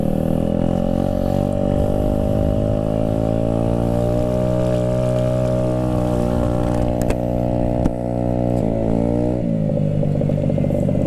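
Custom but stock-style 49cc Honda Ruckus scooter on a ride along, its small engine droning steadily and loudly throughout, with a brief dip and rise in pitch near the end as the throttle shifts.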